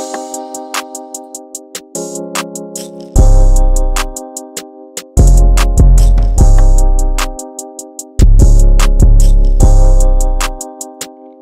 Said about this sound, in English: always delay that 808 for like the first 2 bars